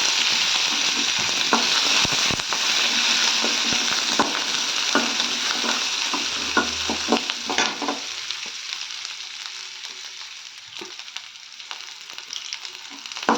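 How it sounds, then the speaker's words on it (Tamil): Onions sautéing in a pan for chutney, a steady loud sizzle with scattered spatula scrapes and stirring clatter that eases slightly toward the end, with no voices. "வெங்காயம்லாம் ரெண்டு வதக்கு வதக்க எடுத்துங்க"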